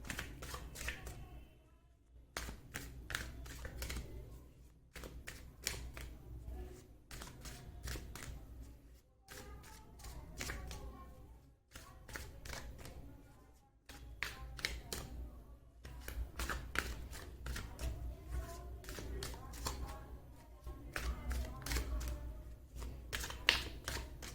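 Tarot cards are shuffled by hand in a long, quiet run of soft, rapid riffling and flicking, with brief pauses between passes.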